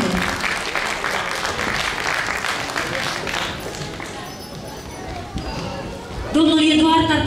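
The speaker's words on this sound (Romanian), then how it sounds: "Mulțumim frumos și aplauze" Audience applause fills a hall at a charity Christmas ball, a dense, steady clapping that runs loud throughout and swells again near the end, with some background voices mixed in.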